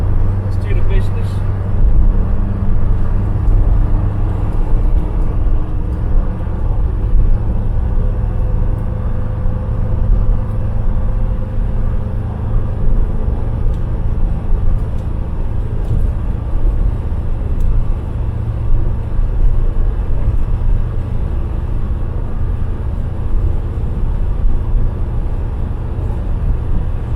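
A Ford Cortina pulls onto a motorway, its engine a steady, close, low rumble that holds throughout while people talk over it.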